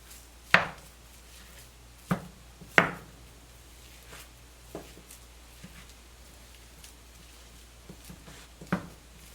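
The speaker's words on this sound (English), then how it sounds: "While the stove is heating up, I'm going to try and separate this sausage." Sausage being broken apart with a utensil in a pan on a stove heating to medium, giving scattered sharp knocks and scrapes at irregular intervals over quiet background, with no talking.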